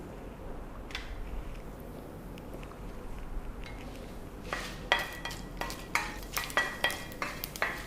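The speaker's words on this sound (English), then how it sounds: "The mustard is crackling." Mustard seeds pop and crackle in a little hot oil in a pan, sharp irregular snaps building up and growing denser over several seconds against a faint background hiss.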